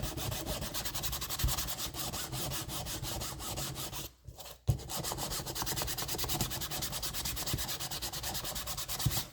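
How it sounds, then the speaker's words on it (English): A nail file rubs back and forth across an artist trading card, a steady rhythmic scratchy sanding close up and faint, with a brief pause midway and no talking. "so I usually give it a little bit of a sand."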